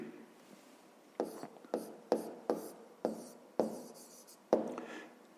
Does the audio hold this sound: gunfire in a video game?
no